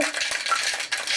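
Ice rattling inside a cocktail shaker as a martini is shaken at home, a steady, dense clatter of rapid bright rattles filling the whole moment at close range with no voice.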